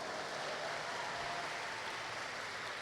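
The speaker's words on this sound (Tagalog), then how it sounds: "pumalakpak ka, dapat excited ka." A church congregation claps together, a dense, even patter of many hands sustained for a few seconds at moderate distance.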